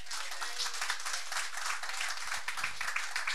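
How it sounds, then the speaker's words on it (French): Audience applause in a church service following a baptism, a dense steady wash of many hands clapping throughout, with a few faint low thumps near the end. "Vous pouvez applaudir."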